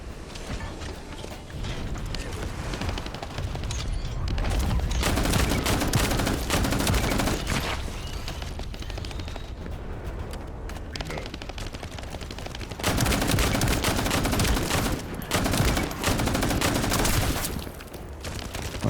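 Rapid automatic gunfire from the online shooter The First Descendant rattles almost nonstop in sustained bursts, with brief pauses between volleys, loud and close.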